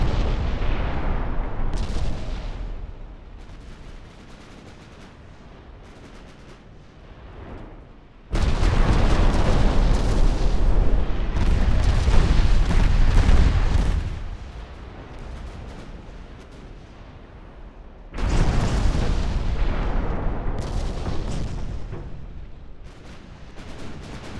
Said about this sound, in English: At this range, Aurora is getting wrecked by my 11-inch guns.